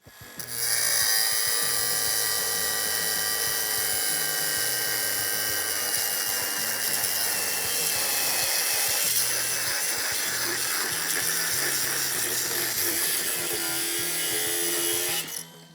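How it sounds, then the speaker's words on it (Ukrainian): Loud, continuous shriek of a cordless Procraft angle grinder slicing through 100 mm steel channel, the pitch wavering slightly as it bites, then cutting off near the end. "Той самий швеллер, але болгарка вже серії С."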